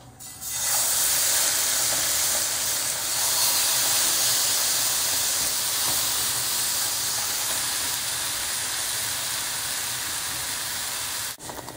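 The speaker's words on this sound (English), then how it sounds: "sear the extra firm tofu in a hot pan" A loud, steady sizzling hiss of extra firm tofu searing in a hot pan continues throughout with no talking.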